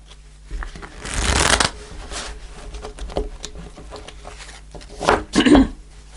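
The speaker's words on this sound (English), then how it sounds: "Do one more shuffle." Tarot cards being shuffled close up, a dry rustling riffle that swells, settles into softer handling, then ends with two quick riffling bursts.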